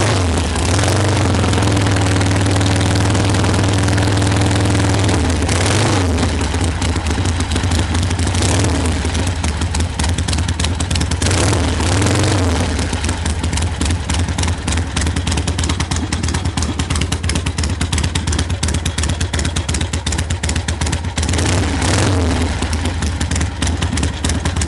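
A 1974 Harley-Davidson Sportster motorcycle engine runs and idles with a loud, close, rough pulsing rumble that surges a few times with throttle blips before settling into a steady idle.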